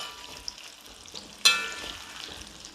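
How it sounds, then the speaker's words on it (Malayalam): Oil crackles and sizzles in a pan, with a sudden sharp burst of frying partway through as gooseberries hit the hot oil. "ഇത് നമുക്കൊന്ന് നല്ലപോലെ ഒന്ന് ചൂടാക്കി ഒന്ന് വാട്ടി വറുത്തെടുക്കാവേ"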